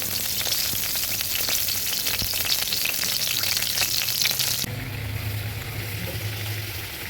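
Bay leaves and a broken dried red chili fry in hot mustard oil in a kadai, a loud, close, continuous crackling sizzle that drops to a softer hiss partway through.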